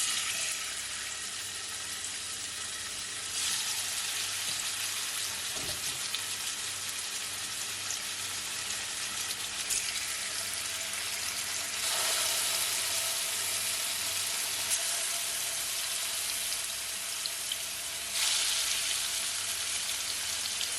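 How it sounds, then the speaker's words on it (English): Chicken fries in hot oil in a pot, making a continuous, moderate sizzling hiss that swells in a few surges over a long stretch. "now that my oil and my pot is hot, I'm gonna add my chicken"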